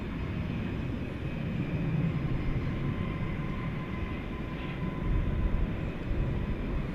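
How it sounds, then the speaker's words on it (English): At DFW Airport at night, an American Airlines jet taking off gives a steady, distant rumble and roar, a broad low drone that swells slightly toward the end. "clear for takeoff, American 558."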